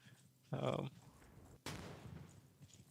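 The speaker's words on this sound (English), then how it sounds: "Are we getting hit with cannon fire right now? I think they're shelling us" A heavy blast erupts and a second sharp boom follows about a second later, their rumbling tails carrying on amid the battlefield noise of a World War I shooter game.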